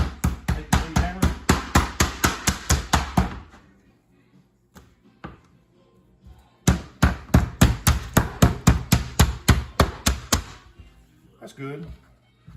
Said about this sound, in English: take the meat hammer.